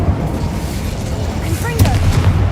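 Incendio fire spell from Hogwarts Legacy, a continuous dense roar of flame with low rumbling booms over steady game ambience, brief swelling whooshes partway through.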